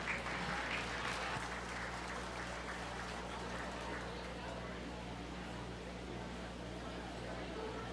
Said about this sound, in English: Let's go ahead and give both of those young people a really nice round of applause.